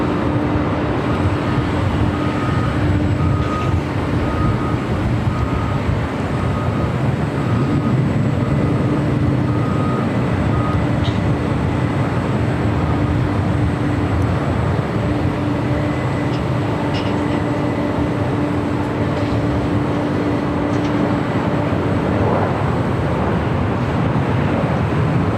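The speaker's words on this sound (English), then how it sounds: "Allegiance flights next arrival on 25 left." An Allegiant airliner arrives on runway 25 left at LAX with a loud, sustained jet roar and engine whine that stays steady throughout, heard from nearby with no voices.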